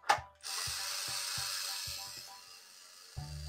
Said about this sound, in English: we can start screwing in our screw